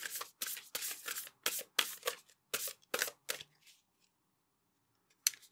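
A tarot deck is shuffled close up in a quiet room: about a dozen crisp, papery riffling bursts come in an uneven rhythm, then a pause and one final short shuffle. No one speaks.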